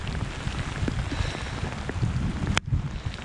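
Warm rain patters steadily on a sailboat out on a New York City river, a dense close hiss of drops with low wind rumble and a brief sharp knock near the end.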